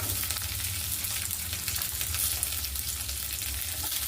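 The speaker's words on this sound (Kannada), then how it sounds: "ಸಾಸಿವೆ ಆದಮೇಲೆ ಸಾಸಿವೆ ಸಿಡಿದೆ, ಸ್ವಲ್ಪ ಈರುಳ್ಳಿ" Onions sizzle steadily in hot oil with popped mustard seeds while sambar is being made, a continuous close frying hiss with faint stirring and no talk.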